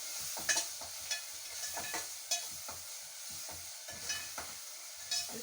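Prawns and raw mango pieces frying in a pan, heard as a soft, low sizzle broken by irregular spatula scrapes and stirring knocks, fairly quiet and with no voices.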